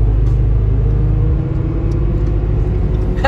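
Loud, deep engine roar from 6.2-litre V8 sports cars racing close by on the autobahn, with a heavy low growl that swells and shifts.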